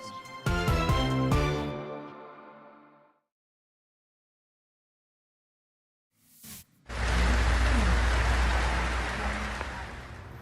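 Heavy rain falling in Metro Vancouver during a rainfall warning, a loud, dense, steady roar of downpour that swells in after a brief musical passage and a pause of silence.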